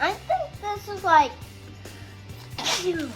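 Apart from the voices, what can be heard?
sneeze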